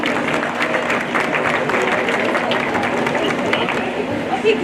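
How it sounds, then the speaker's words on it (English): Audience at a junior livestock show in Bailey County applauds exhibitors, a steady round of clapping mixed with crowd chatter lasting the whole stretch. "give these exhibitors a round of applause for all their hard work today"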